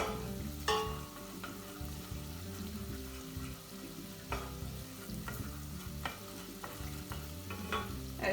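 Pepper paste sizzles and fries in a pan for tarhana soup, a steady crackling hiss broken by the scrape and clatter of stirring.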